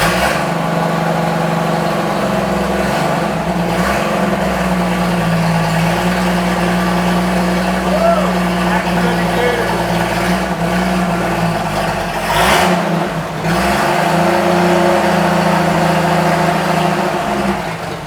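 A 1976 Toyota FJ40 running with no muffler, only a downpipe and intermediate pipe: loud, raw, close exhaust drone idling and rising in a few revs, with a brief dip partway through.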